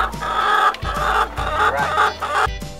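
Free-range chickens cluck and murmur nearby in a busy, continuous chorus, with repeated short low clucks rising and falling.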